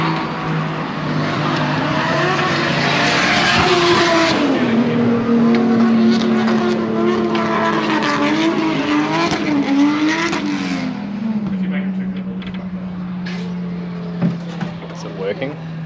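An RB25-powered Nissan S14 Silvia drifts with its engine wailing and tires squealing in a long sustained screech, the pitch sliding as the car swings, then easing off to a lower drone with a few sharp knocks; voices come through.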